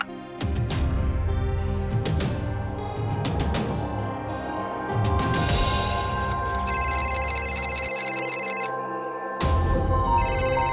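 Electronic phone ringtone bursts sound repeatedly over layered background music, ringing on with no one picking up.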